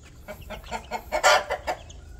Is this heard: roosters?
yes